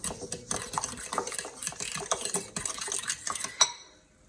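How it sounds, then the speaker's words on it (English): A spoon stirring sugar into a wet bread dough mixture in a bowl, a busy run of close scraping, tapping clinks against the bowl side with a few louder knocks, ending abruptly. "I'm going to stir this up."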